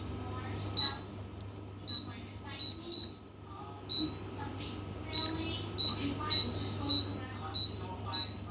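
A cooker's timer being set, with a series of short, sharp electronic beeps from the button presses at irregular intervals over a low steady hum; a voice speaks quietly between them.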